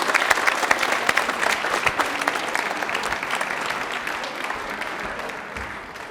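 Studio audience on a televised quiz show breaks into steady, enthusiastic applause, loud and close, fading slightly toward the end.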